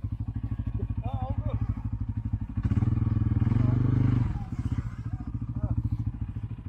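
A CF Moto motorcycle engine idles and revs up loudly for about two seconds before settling back, close by on a group ride near Polonezköy, with people talking over it.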